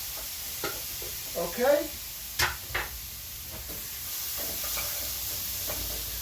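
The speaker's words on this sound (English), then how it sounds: "We're going to go back in with the shrimp because these shrimps are not fully cooked." Shrimp for a linguine with zucchini sizzles in a pan. A soft, steady fry runs under a few clinks and stirring scrapes, and a voice speaks briefly.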